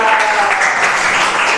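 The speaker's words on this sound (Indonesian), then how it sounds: "Boleh tepuk tangan dulu buat Yarda." Brief, loud applause from a classroom audience, a steady wash of clapping lasting under two seconds.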